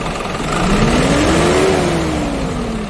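Hyundai County minibus fitted with a turbo booster, its engine revving up loud and close as the accelerator is pressed, pitch rising over about a second and a half then easing back down, with no talking.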